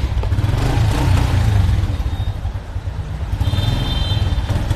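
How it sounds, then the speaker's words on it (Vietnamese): A motorcycle engine runs close by, a low rumbling idle with slight rhythmic pulsing that swells and dips, heard alone without talk. "Nghe tiếng máy em phát."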